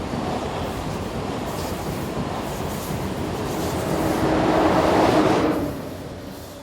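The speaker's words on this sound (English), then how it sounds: "the new Siemens Vectron electric locomotives are now an everyday sight on this line" A Siemens Vectron electric locomotive train passes on a European line with a steady rumbling roar of wheels on track that builds toward a louder peak before easing off.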